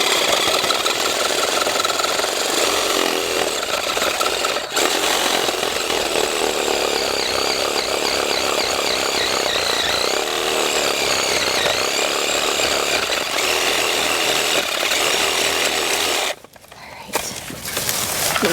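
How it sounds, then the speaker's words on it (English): A Sawzall reciprocating saw runs loudly and steadily for most of the time as it cuts through a thick shrub stem while pruning outdoors. It is briefly interrupted near the end before restarting. "I'm going to use my Sawzall for this"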